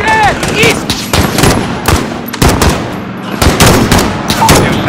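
Rapid gunfire from a Call of Duty Modern Warfare embassy siege, with repeated loud bursts of automatic and single shots cracking close by across the whole stretch, mixed with battlefield noise and brief radio-style voices.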